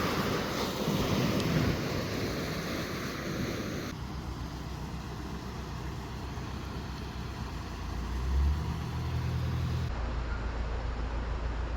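Waterfall beside a narrowboat on a canal, a steady broad rushing roar of falling water with some wind buffeting and a low engine rumble in the background.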